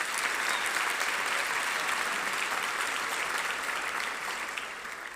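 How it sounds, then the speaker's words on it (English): Healthcare staff awards event audience giving a round of applause, dense steady clapping from a large crowd throughout, easing slightly at the end. "Let's give her another round of applause."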